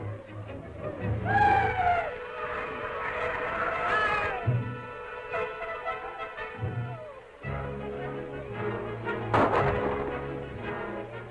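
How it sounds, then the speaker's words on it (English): Rifle shots in a 1937 jungle adventure film, heard as a few sharp cracks around two and nine seconds over a rumbling outdoor background with faint cooing birds. "Rifle shots. Over there."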